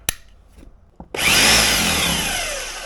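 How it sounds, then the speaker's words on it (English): A couple of sharp knocks, then a heavy Bauer SDS max hammer drill starts up and runs with a loud, rattling, high-pitched whir that slowly eases off. "Hammer drill, hammer. That's what we want right there."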